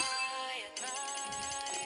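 A bright chiming notification tone from the mobile game Brawl Stars sounds alone for about two seconds, a sustained melodic jingle with a brief dip and a renewed shimmering note midway.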